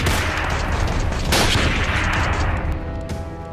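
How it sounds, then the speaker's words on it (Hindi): Dense automatic machine gun fire at a city crossroads in Allahabad, a loud continuous rattle of rapid shots with heavier bursts, nearby and sustained for several seconds with no voices. "ऑटोमेटिक मशीन गन से गोलियां चलने लगी।"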